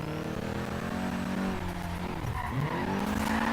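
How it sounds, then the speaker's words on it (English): Nissan Silvia S13 drifting in Forza Horizon 3, engine droning steadily while the tires squeal in long continuous screeches, loud and close with no talking. "There's a drift."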